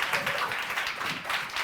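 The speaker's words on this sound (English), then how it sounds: "Round of applause." Brief burst of audience clapping at a talk, a short scattered round of hand claps from a small group, fairly faint and close.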